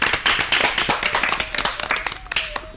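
A small audience claps for a student speaker at a children's school programme, a brisk scatter of hand claps, fairly close and steady for a few seconds, with a faint voice underneath.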